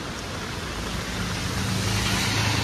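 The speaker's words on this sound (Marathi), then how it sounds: "एकदम आरामात गाड्या येत आहेत" Cars moving through a flooded street during heavy Mumbai rain at Kurla, a steady wash of water and engine rumble that swells slightly as a vehicle approaches, with no voices.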